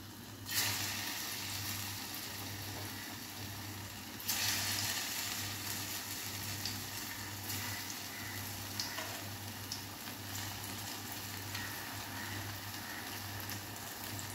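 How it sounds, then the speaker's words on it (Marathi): Alu vadi, the crisp Marathi colocasia-leaf rolls, sizzling in hot oil: a steady, soft crackling fry that continues throughout. A few louder bursts mark pieces going into the pan, and there is no talking. "तेल तापलं आहे छान. मग वड्या सोडून घेऊया आपण आता."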